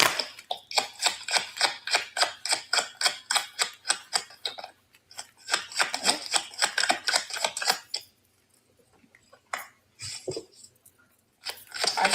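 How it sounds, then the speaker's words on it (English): Tarot cards being shuffled by hand, heard as rapid, close crackling riffles in repeated bursts, with a short pause and a few scattered flicks near the end. "I done shuffled these cards down"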